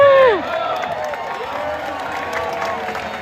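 A crowd of about 2,000 people at a No Kings protest in Alameda: a loud whooping cheer opens, then settles into steady outdoor crowd noise with scattered voices.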